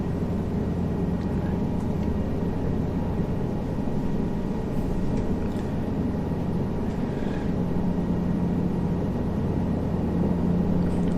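Cabri G2 helicopter in Microsoft Flight Simulator lifts off, its engine and rotor giving a steady, loud droning hum with a low throb that holds for several seconds.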